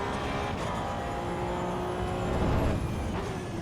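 A Porsche Cup race car engine in the Assetto Corsa Evo racing game gives a steady, loud, droning roar that swells briefly near the end, with no voices over it.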